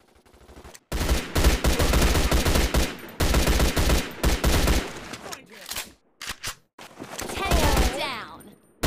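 Gunfire in the Fusion War Android video game comes as loud bursts of rapid automatic shots separated by short pauses, with speech mixed in.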